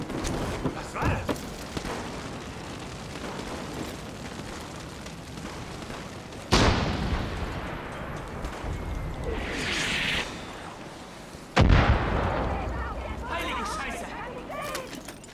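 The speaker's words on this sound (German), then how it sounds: "Da wird geschossen!" Loud, sudden blasts and bursts of gunfire in Far Cry New Dawn come twice over a busy rumbling game soundscape, with several sharp onsets.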